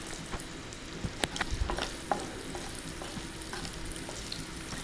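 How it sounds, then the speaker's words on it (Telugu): Boiled egg white pieces fry in a pan with oil, a steady close sizzle broken by a few sharp stirring clicks and scrapes, no voices. "ఉడికించుకున్న ఎగ్ వైట్ వేసుకోవాలి ఇలా కట్ చేసుకొని ముక్కలుగా దాంట్లో వేసుకొని ఫ్రై చేసుకోవాలి"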